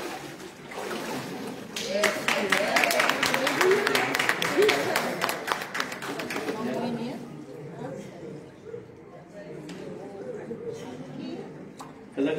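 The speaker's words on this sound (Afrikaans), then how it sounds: "geef hom 'n lekker hande klap" A church congregation claps after a baptism, a burst of rapid applause that swells and then fades, with people talking over and after it.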